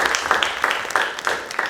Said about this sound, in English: So you can applaud me again.